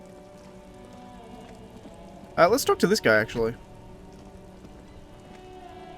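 Steady rain falls in the video game Disco Elysium, a soft continuous wash beneath the whole scene, with someone speaking briefly over it partway through.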